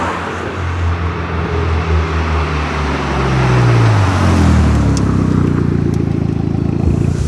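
A race circuit car's engine roars loudly and close, its pitch sliding down and then climbing again as it revs hard, with no voices over it.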